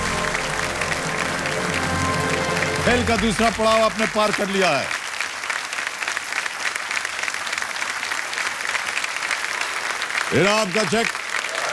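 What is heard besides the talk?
audience applause for the player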